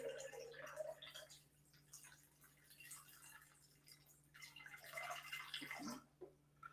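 Tap water pours into a double rocks glass close up, a soft continuous splashing and trickling stream that rises and falls in intensity, fairly quiet, with a faint steady hum underneath.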